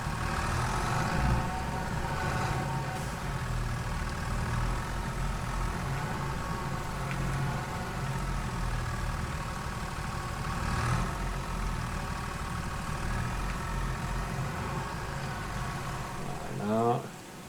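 A tractor engine idles in a farming video game, a steady low drone running unbroken for the whole stretch with no speech over it.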